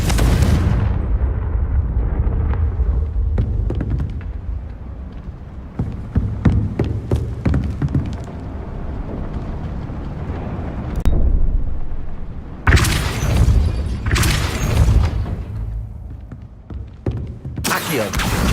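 Confringo fire-spell blasts in Hogwarts Legacy: heavy booming explosions with rumbling tails, several loud bursts standing out over continuous game background noise.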